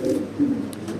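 A male pigeon of a white Spanish breed cooing nearby, one soft low rolling coo of about a second, close and clear with no talk over it.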